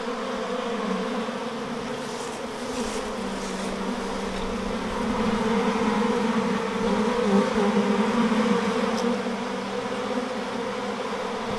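Dense, steady buzzing of many bees up close at open hive frames, a continuous droning hum that swells slightly in the middle and never lets up.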